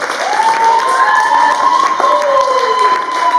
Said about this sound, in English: Clap Elsa up, please.